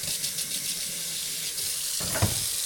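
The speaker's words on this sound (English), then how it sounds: "I come over to my sink, and I get the water as hot as possible" Hot water runs from a kitchen sink tap, a steady broadband hiss that continues throughout, with a brief louder splash or clatter near the end.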